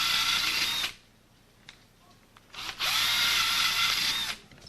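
A power drill boring pilot holes for door hinge screws, two sustained high-pitched whirring bursts close by, separated by a short quiet pause with faint handling noise.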